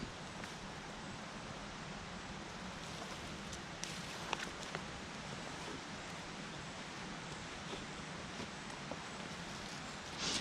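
Steady rain falls outdoors while wild raspberries are foraged in Penicuik, Scotland: a dense, even hiss of drops throughout, with a few sharper nearby patters standing out and no talking.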